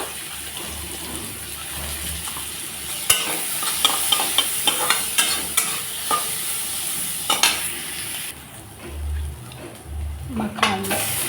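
Chopped onion and green chilli fry in a little mustard oil in a pan with a steady, close sizzle. Sharp clicks and scrapes of stirring come through, and the sizzle briefly quiets before flaring again.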